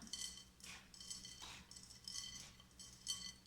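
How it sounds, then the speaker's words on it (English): Granola ingredients are stirred in a bowl with a rubber spatula, giving soft repeated scraping and light clinking strokes, quiet and close, in an irregular rhythm. "I'm just going to drop them all in the bowl and then give this a good mix. With a rubber spatula."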